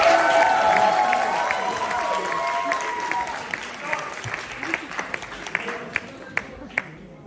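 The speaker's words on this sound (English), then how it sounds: "Please, big round of applause for Campus Crew who's coming out now." A crowd at a university arts festival applauds as a dance group comes on stage, loud clapping and cheering that thins out into scattered individual claps.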